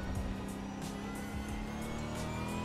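A Supercars race car engine at Interlagos, Brazil, droning steadily as it accelerates and shifts up a gear, loud and close from onboard.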